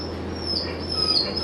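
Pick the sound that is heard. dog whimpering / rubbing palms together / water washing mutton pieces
dog whimpering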